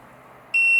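An AGJ wireless restaurant pager bursts into a loud, steady electronic beep after a moment of quiet hum, one sustained high tone that continues to the end.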